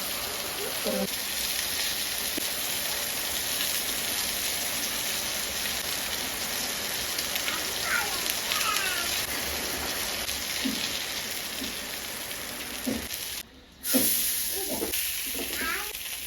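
Mangalore-style bangude mackerel frying in hot oil, a steady dense hiss and sizzle with scattered pops and spits, close and continuous under quiet talk, with a brief dropout near the end.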